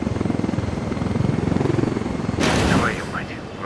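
Helicopter in Ghost Recon Wildlands, a loud rapid rotor thump pulsing steadily close by, then overtaken by a sudden burst of harsh noise and fluttering tones near the end.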